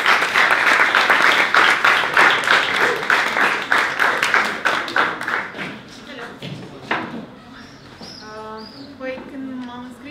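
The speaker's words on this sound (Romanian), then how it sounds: "hai să aplaudăm pe Flori Ionita" An audience at an ASER Talks event in a pub applauds Flori Ionita: loud, rapid clapping that gradually thins and fades over several seconds, ending in near quiet with a few faint tonal sounds at the end.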